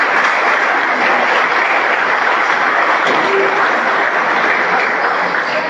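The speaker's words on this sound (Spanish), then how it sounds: "otro fuerte aplauso para ellos" An audience at a patronal church novena in Rio Primero applauds, a dense, steady wash of many hands clapping that holds at full strength for several seconds.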